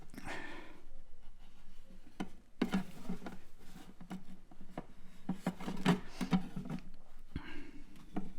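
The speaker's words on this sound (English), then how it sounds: "So just quickly wipe those edges with a clean cloth." A cloth rubbing and patting along the edges of an inked etching plate, with irregular soft scuffs and light taps close by, some brisk strokes clustered together, with no talking.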